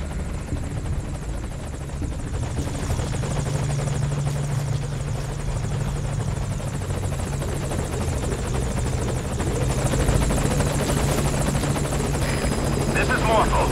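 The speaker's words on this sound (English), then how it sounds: "And then he notices the helicopter." Steady helicopter rotor thrum and engine drone from Metal Gear Solid V: Ground Zeroes run throughout, with muffled game voices in the background.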